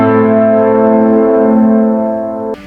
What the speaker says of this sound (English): So here's the sound of it, deceptive cadence